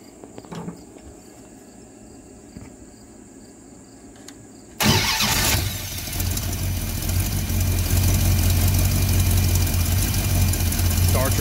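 A Mopar car engine, just repaired after a no-spark fault, fires up abruptly after a quiet stretch and settles into a steady, close idle that grows slightly louder.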